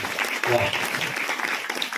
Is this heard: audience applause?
yes